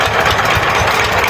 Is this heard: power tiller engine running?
yes